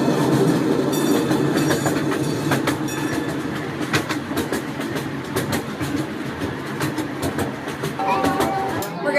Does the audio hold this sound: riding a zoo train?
yes